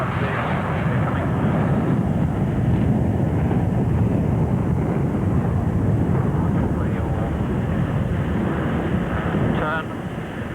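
Concorde engines roaring with afterburners in the takeoff climb, a loud, steady broadband rumble heard from the flight deck, continuous throughout with faint cockpit voices underneath.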